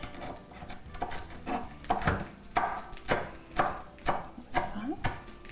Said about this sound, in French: Juste hacher vite.